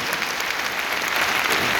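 Loud, dense applause from a large audience at a 20th anniversary gathering, with continuous even clapping across the whole short stretch.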